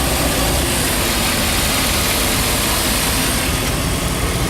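A 2001 Chevy 2500 van's engine idles steadily and close by, a loud, even rumble that holds without change throughout.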